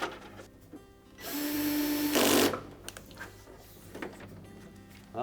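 A power driver runs a screw into a refrigerator's fresh food door liner, an Amana unit with its gasket pulled back: one steady whirring burst of about a second, ending in a brief harsher grind, followed by quieter handling clatter.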